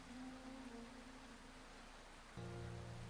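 Steady rain patters and hisses through a rainy night scene in the video game Peculiar Tales of Mid-Lake Pavilion, soft and continuous with a low hum shifting partway through.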